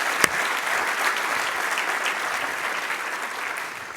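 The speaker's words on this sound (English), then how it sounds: "Let's give them a round of applause, please." Steady applause from a conference audience at a manufacturing summit, clapping continuously and fairly close for the whole stretch without pause, honoring the event sponsors.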